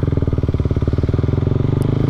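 A motorcycle engine idles loud and close, a steady rapid pulsing chug with no speech.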